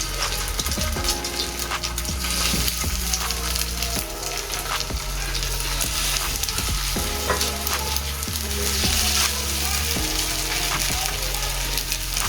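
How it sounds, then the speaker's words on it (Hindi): Chicken noodle kebabs frying in hot oil on a flat griddle, a steady close sizzle running throughout with occasional louder crackles and spatters as the pieces cook. "तवे के ऊपर ऑयल डाल के उसको अच्छे तरीके से गर्म कर लेना है और हम एक एक करके इसके ऊपर अपना कबाब रखते हैं"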